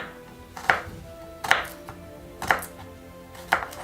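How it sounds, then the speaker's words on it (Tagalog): Four evenly spaced knife chops through garlic on a cutting board, each a crisp close thud about a second apart, with no voices. "Hiwa po tayo ng bawang."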